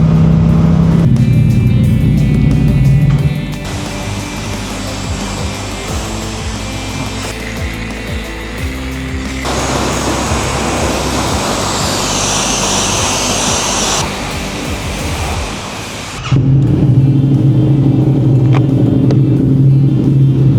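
A 2022 Yamaha MT-07 LAMS motorcycle rides through stop-start city traffic with a steady, loud engine and road roar. The tone shifts midway, and a heavier low rumble is heard at the start and end.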